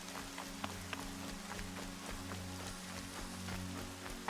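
Heavy rain in the video game Horizon Zero Dawn, a faint continuous patter with occasional droplet ticks over a low steady hum.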